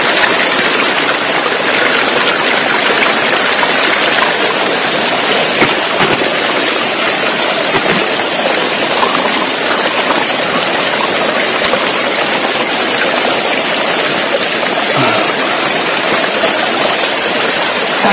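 A forest stream near Kohoj fort pours steadily, a dense continuous rush of flowing water filling the scene with no pauses and no voices, loud and close throughout.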